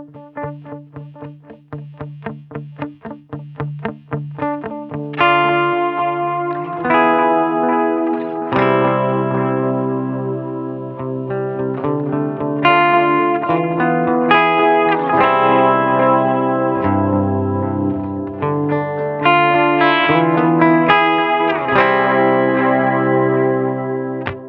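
Electric guitar played through a UAFX Galaxy '74 tape echo and reverb pedal: picked notes and chords ring out with repeating echoes and a washy, sustained tail, steady and alone.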